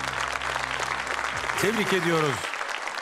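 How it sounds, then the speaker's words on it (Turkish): Audience applause for the winner of an evening Quran recitation competition, steady clapping throughout, with a voice speaking over it partway through. "Alkışlarınız Muhammed John için"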